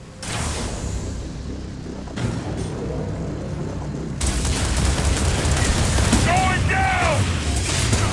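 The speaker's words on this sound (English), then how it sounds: "Nuclear weapon launched." Loud, dense video game battle noise as a nuclear weapon detonates: booming blasts and a sudden swelling roar midway, continuous rumble throughout and some chirpy effects near the end.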